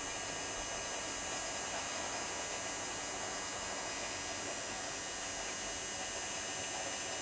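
Steady hissing rush from the blower of an Aster Gauge 1 live steam locomotive model, the Titfield Thunderbolt, with the blower cracked slightly open; a continuous, even, broadband hiss held close without a break.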